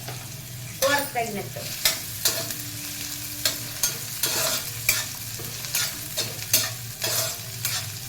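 Onions and cumin seeds fry in a pan with a constant sizzle, broken by repeated scraping and clinking strokes of a spoon as they are stirred, close and fairly loud, with a short spoken remark.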